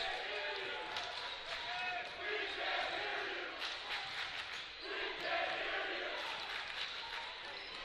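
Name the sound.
basketball crowd making noise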